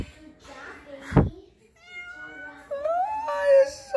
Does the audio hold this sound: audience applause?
no